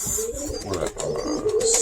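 A Birmingham Roller pigeon hen coos in soft, throaty bursts, close by, over light background noise.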